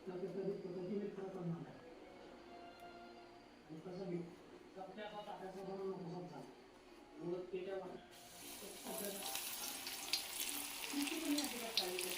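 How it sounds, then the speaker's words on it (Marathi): Semolina-coated fish slid into hot oil on a flat griddle, a voice talking over the first part before a loud, steady sizzle swells up and carries on alone. "मच्छीला तर मस्त कोट करूया रव्यात आणि सोडूयात तव्यावरती"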